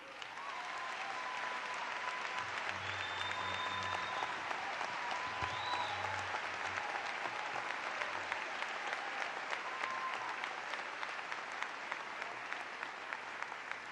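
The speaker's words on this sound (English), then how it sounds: "Y'all got to stop with the clapping." Sustained applause from an inauguration audience for Newark's 2006 swearing-in, steady dense clapping filling the whole stretch with no pause, loud and continuous from a large crowd.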